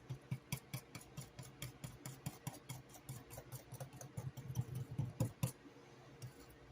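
Pecan pie filling with Karo syrup and sugar gets stirred in a bowl, a faint series of quick scraping, clicking strokes in an uneven rhythm, close by and quiet.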